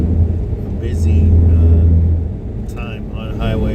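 Cars passing on Highway 1 in the morning, a distant low rumble that swells and fades as vehicles go by, with a person talking faintly over it.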